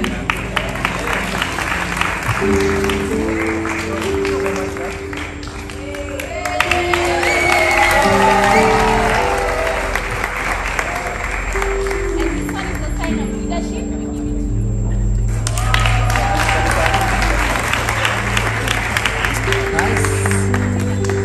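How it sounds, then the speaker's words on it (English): A studio audience at the Churchill Show comedy and music event in Kenya applauds and claps steadily, loud and close. A music backing with a steady bass line plays underneath, and there are a few brief voices. "A round of applause, ladies and gentlemen"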